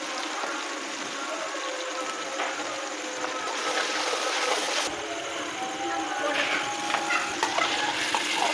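Spices fry and sizzle in a pot with a steady hiss as they are stirred, before chickpeas go in for a village pulao, with occasional scraping and no voices.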